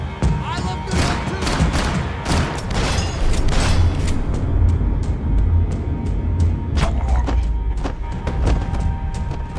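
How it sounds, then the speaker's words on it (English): Gunfire and heavy impacts in the video game Max Payne 3 over Hoboken, a dense barrage of sharp shots and booming thuds, loud and continuous with scattered bursts throughout. "Gunfire over Hoboken."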